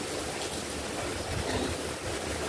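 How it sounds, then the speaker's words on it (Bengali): Radish greens (mulor shaak) being washed in water for a home-cooked dish, with continuous close splashing and sloshing and no talking. "শাকটা ধুয়ে নেবে।"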